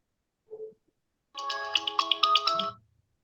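A mobile phone ringtone chimes out during an online class discussion, a clear melodic burst of repeated tones lasting just over a second, preceded by a brief faint tone.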